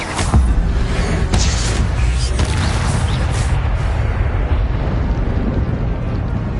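Incendio fire spell cast in Hogwarts Legacy, a loud burst of roaring, crackling flame with sharp pops early on that settles into a dense, sustained rushing blaze.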